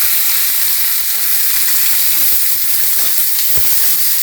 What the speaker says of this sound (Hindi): गरम मसाला जो हमने लिया था साबुत वो डाल दे रहे हैं। हम प्याज डाल देंगे।